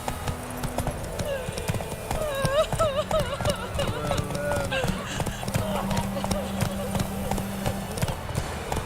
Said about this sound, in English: Whoa there, Roach. Take it easy.